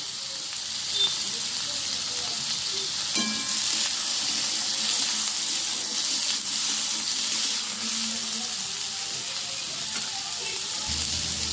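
Panch phoron spices sizzling in hot oil, a bright steady hiss with a sharp burst as the seeds hit, some light stirring clinks and a low thump near the end, close and continuous.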